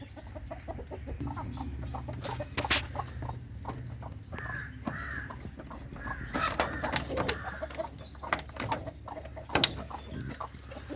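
Chickens cluck in a busy coop, with scattered squawks and a faint crow over a steady noisy background.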